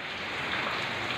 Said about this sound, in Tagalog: manood kayo ng ulan